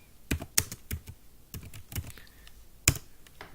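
Someone types on a computer keyboard, irregular clusters of close, quiet key clacks with short pauses between bursts.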